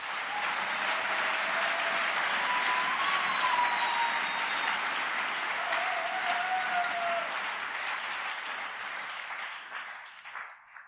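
A church congregation at a servants' conference applauds continuously, a dense, loud wash of clapping that holds steady for several seconds, then thins and fades out toward the end.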